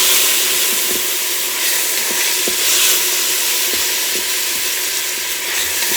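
Garlic sizzles in an Instant Pot as it is stirred into the hot pot for chicken noodle soup, giving a broad, steady frying hiss with faint scraping ticks from the stirring.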